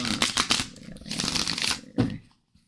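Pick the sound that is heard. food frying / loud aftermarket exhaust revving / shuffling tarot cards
shuffling tarot cards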